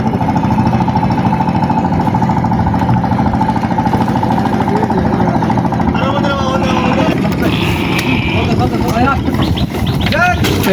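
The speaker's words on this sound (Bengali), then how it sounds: "ট্রলার যাচ্ছে।" A trawler boat's engine chugs past on a river during the monsoon near a village market, a loud steady low throb throughout, with voices talking over it and faint high calls toward the end.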